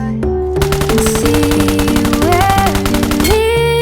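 Honey Badger rifle in the game PUBG Mobile fires rapid automatic bursts, a fast steady stream of loud close shots over game music, running almost the whole clip.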